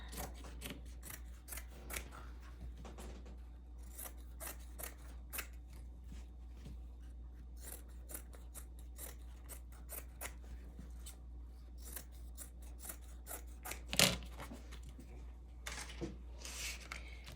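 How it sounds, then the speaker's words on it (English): Scissors cutting down a 6x7 cross stitch sticky board: many crisp, close snips and scrapes repeat irregularly over a steady low hum, with one louder cut standing out near the end. "And I'm going to cut this down before I even attempt it."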